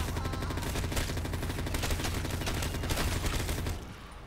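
Rapid, continuous weapon fire from a ray gun in the modded Call of Duty Black Ops 3 zombies game, a dense run of shots that stays loud for nearly four seconds before cutting off abruptly.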